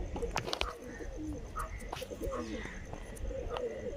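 Pigeons of an old breed coo in soft, repeated rolling calls, faint and fairly close over a noisy background with other bird chirps.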